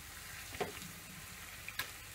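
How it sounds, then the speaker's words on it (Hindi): Moong dal roasting in hot ghee in a pan for halwa gives a steady, close sizzle and frying crackle with a few soft stirring scrapes. "अब ये घी थोड़ा गर्म हो गया है, मैं इसमें दाल डाल रही हूँ"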